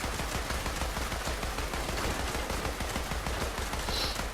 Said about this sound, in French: On ouvre le feu, on mitraille.